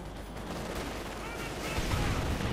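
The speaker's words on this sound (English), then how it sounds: "Packhauser firing away as well, with murderous glee." Pak 40 anti-tank gun firing in Company of Heroes 2 during a 1v1 match, heard amid a dense wash of battle noise with overlapping gunfire and explosions, a steady loud din swelling slightly toward the end.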